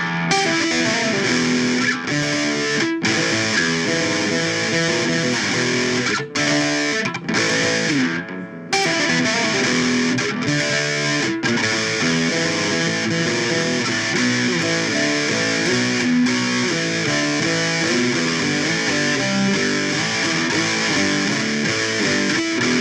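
An acoustic guitar played through a latched-on distortion effect from a Fishman Ellipse Matrix Blend, loud and sustained, with thick fuzzy chords ringing on and briefly dropping out between strums.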